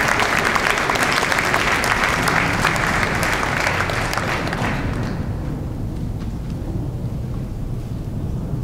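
A crowd at a Year 12 graduation ceremony applauds after a musical performance, dense loud clapping that fades down to a thinner patter after about five seconds.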